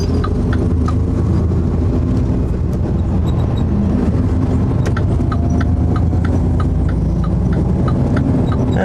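A big water haul truck drives south down a freeway, its engine and tire roar a steady, loud, unbroken drone with faint rhythmic ticking sounds over it.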